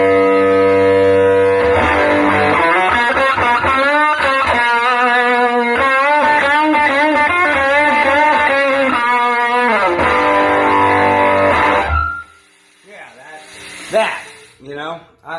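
An electric guitar played through a Marshall 1959 Super Lead amp pedal into a Fender Excelsior amp chugs out loud, driven chords and riffs for about ten seconds before cutting off, leaving brief scrapes and handling noise.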